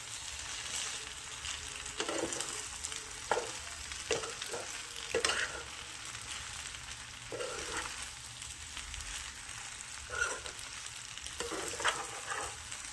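Vegetable and egg pasta with pepper being stirred in a pan: a quiet continuous sizzle broken by intermittent scraping strokes of a utensil, close but fairly soft, no speech.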